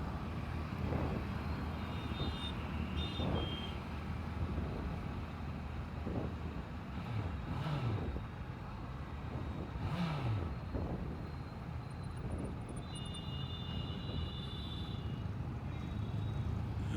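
A Honda CBR650F four-cylinder motorcycle being ridden, its smooth engine droning steadily with wind rush, rising and falling as it pulls through the gears.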